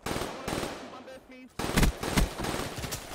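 Rapid automatic gunfire crackles in a competitive Call of Duty Hardpoint match, with dense bursts of shots and loud impacts that come in waves, mixed with game sounds and voices.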